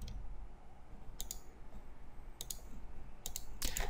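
A computer mouse gives a few quick, faint clicks in small bursts, with a final cluster of rapid keystrokes, while a file is renamed, set against a quiet room hum.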